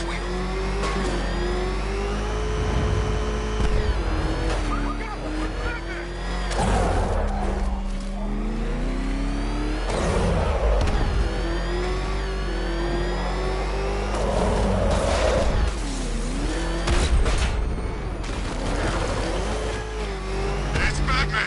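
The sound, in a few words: Batmobile tank driving in Batman Arkham Knight video game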